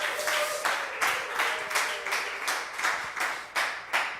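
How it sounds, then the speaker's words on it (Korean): A church congregation claps in steady unison to encourage the worship music staff, a rhythmic run of about eight even beats of applause at moderate loudness. "박수로 한번 격려하겠습니다."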